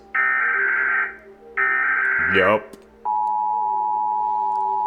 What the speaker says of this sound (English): The one I'm used to is America's that sounds like this.